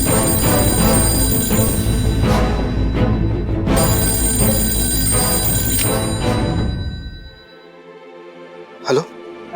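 A telephone bell rings loudly and continuously in a television drama scene, layered with dramatic background music and sound, then cuts off to near quiet with one brief sound afterward.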